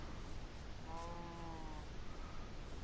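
A sheep bleats once in a Minecraft-style survival video game, a short wavering cry standing out over quiet ambient game noise.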